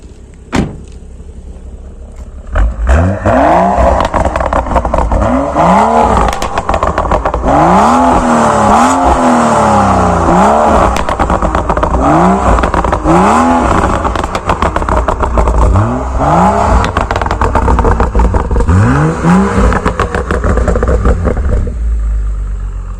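A 326-horsepower BMW M135i xDrive starts up, then its engine is revved hard over and over, rising and falling in loud close bursts, before settling back to idle.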